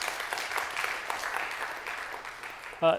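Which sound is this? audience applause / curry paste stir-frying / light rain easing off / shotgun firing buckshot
audience applause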